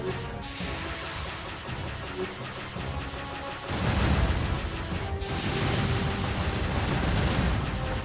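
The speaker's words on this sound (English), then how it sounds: "Our flight was great fun. Lots of explosions." Explosions rumble and crash through a flight sequence in the action role-playing game Jade Empire, dense layered game audio with a heavy, louder blast surge about halfway through and sustained booming after.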